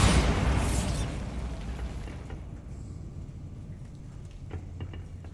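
A Bombarda spell explosion in the video game Hogwarts Legacy goes off with a loud, broad blast at the start, then rumbles away into a low, fading tail with small crackles.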